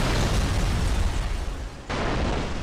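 A car crash explosion in the racing video game Burnout 3: Takedown on PS2: a loud, sustained broadband roar and rumble that drops briefly near the end, then surges back, with no talking.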